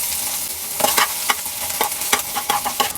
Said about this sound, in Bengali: এরপরে এই তেলের মধ্যে কুচি করে রাখা রসুনের কোয়া দিয়ে দিব।